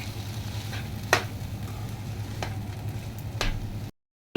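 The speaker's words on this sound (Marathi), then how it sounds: "आता दलिया टाकला. हा सगळं छान व्यवस्थित मिक्स करून घ्या." Daliya and vegetables are stirred in a hot pan, a soft low sizzle with a few sharp scraping clicks of the spoon at intervals, close and quiet, before cutting to silence.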